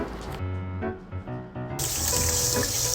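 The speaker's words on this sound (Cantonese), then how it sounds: "用之前記得沖一沖水" A faucet runs and water splashes over a cat-head-shaped ion-exchange ceramic water-softening stone held beneath it, the flow growing louder and fuller partway through.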